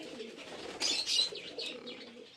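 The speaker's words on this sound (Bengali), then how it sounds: "এই হচ্ছে আমার সব পায়রা।" Pigeons in a loft give soft, low coos mixed with light chirps. A short burst of wing flapping rises in the middle, close by, and no one speaks.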